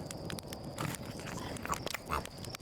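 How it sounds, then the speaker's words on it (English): A person chews food, likely a marshmallow, with soft crunching and biting sounds close to the mic, faint and steady, no talk. "You don't want to listen to me make chewing noises."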